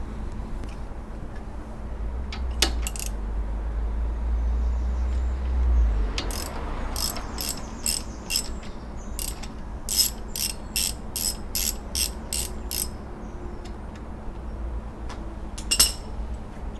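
Ratchet loosening a 12 mm alternator nut on a Subaru Impreza, with bursts of crisp clicks in short rhythmic runs over a low background hum, close by.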